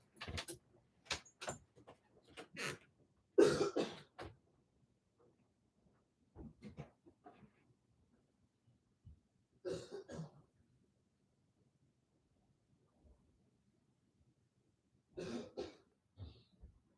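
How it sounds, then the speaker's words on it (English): Several separate bouts of throat clearing and short coughs, close and fairly loud, with quiet pauses between them and faint rustling. "I am going to step out real quick to clear my throat"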